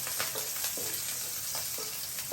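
Green chilies deep-frying in oil until crisp, a steady bright sizzle with small bursts of bubbling throughout, close and continuous with no talk.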